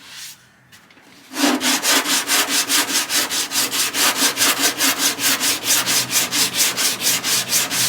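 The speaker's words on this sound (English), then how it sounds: "Just keep sanding." Hand sanding of Bondo body filler on car bodywork makes steady, rhythmic back-and-forth scratching strokes, close and fairly loud, repeating evenly about three times per second with no talk.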